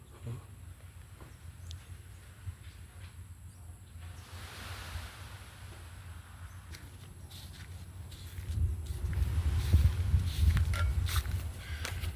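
Waves wash over a rocky shore, a steady broadband surf that swells louder and rumbles closer toward the end, with wind noise throughout and no speech.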